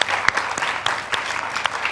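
A studio audience claps, a short burst of scattered, distinct handclaps with a few sharper hits standing out, heard close and lively.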